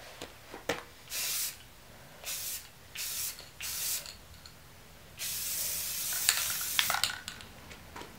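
Several short bursts of spray paint hiss close by while painting scooter bars, separated by brief pauses, ending in a longer sustained spray with faint clicks.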